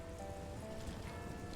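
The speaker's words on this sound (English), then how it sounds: "it is raining" Steady rain falling in Call of Juarez: Gunslinger, a dense continuous patter spread evenly across the scene without talk.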